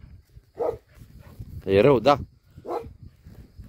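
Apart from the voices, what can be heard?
large sheepdogs barking at a sheepfold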